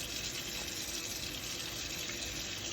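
Tap water runs steadily into a sink during handwashing with soap, a close continuous hiss and splash at low level with no talk.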